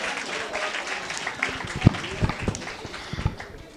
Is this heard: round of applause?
yes